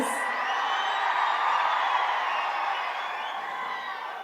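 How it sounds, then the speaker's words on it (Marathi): A political rally crowd claps and cheers in a sustained broad roar of applause, loud and even from start to finish with no voice over it. "प्रचंड उत्साहाने लोक टाळ्या वाजवत आहेत"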